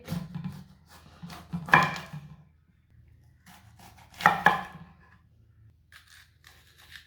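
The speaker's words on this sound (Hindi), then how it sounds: "शिमला मिर्च को ना काट लेंगे।" A capsicum being cut with a knife, giving a few soft crunchy slices and two sharper cuts with a juicy crackle, close and quiet, with no voices.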